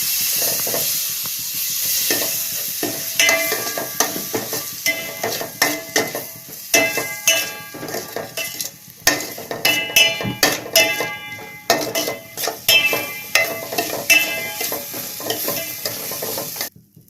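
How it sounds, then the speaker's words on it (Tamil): Chopped tomatoes sautéing in a pan for bread egg masala, a loud sizzle under repeated clattering stirs and metal clinks against the pan, with no talk. "அடுத்து கட் பண்ணி வச்சிருக்க தக்காளியை போட்டு வதக்கலாம்"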